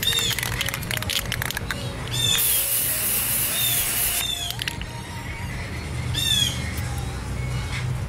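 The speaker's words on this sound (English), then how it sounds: "So I'm going to go ahead and hit this with a little primer." Primer sprayed from a can onto a scratched motorcycle part: a loud hissing burst of spray lasting about two seconds, framed by squeaky handling noises and brief clatters, no speech.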